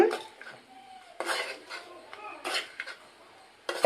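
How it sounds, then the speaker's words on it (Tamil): Lemon rice being stirred with a metal spoon in a pan after salt is added, giving scattered scraping and clinking bursts, close and moderately loud, with pauses between strokes. "சால்ட் சேர்த்து ஒரு டைம் லைட்டாக நீங்கள் கலக்கி விட்டுக்கோங்க"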